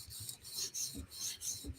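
A knife edge being drawn in repeated passes across a 400 grit sharpening stone, a steady rhythmic rasping of about four strokes, close and moderately loud with no talk.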